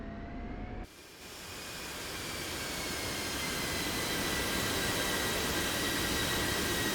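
An F-16C jet engine in the DCS flight game spools up to taxi power, a steady roaring whine rising after a brief cut and holding loud and continuous with no voices.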